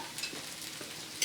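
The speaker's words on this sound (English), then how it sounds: "stir the beans" Heated beans being stirred in a dish during taco preparation, a soft wet scraping and sizzling texture with a couple of faint clinks, close and quiet.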